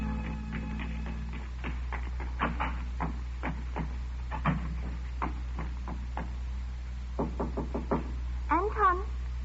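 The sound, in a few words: knock on the door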